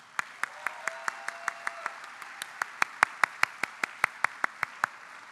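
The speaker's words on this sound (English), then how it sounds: "Can we give them a huge round of applause?" Graduation ceremony clapping for the supporting families and loved ones, heard as a sparse, steady rhythm of roughly twenty distinct hand claps, fairly close, with little crowd noise behind them.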